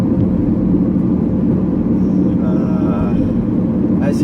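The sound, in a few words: 1999 Chevy Camaro V6 engine without muffler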